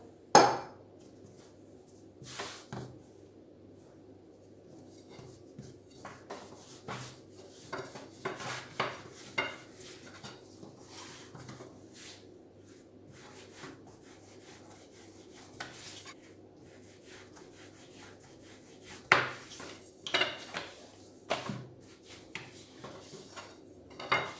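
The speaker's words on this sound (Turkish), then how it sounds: "İkinci yufkamızı da açalım." A square sheet of dough for Erzurum kete is rolled out on a work surface, giving quiet rubbing and rolling with scattered light knocks and clatters of the pin, close by, with no talk.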